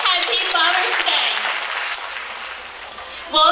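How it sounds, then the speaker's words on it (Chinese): Warm audience applause at a Father's Day stage celebration preceding a Chinese dance performance, a dense broadband wash of clapping that holds steady, eases slightly, then swells again at the end. "让我们以热烈的掌声祝愿他们父亲节快乐"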